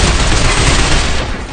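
Loud, dense gunfire from the Binary Domain video game, a continuous rattle of automatic shots with heavy booms, close and unbroken throughout.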